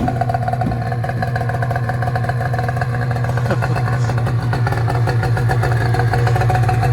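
A carbureted snowmobile engine pulled into life by its recoil starter, then running in a steady, rough mid-pitched idle close by, with no talking.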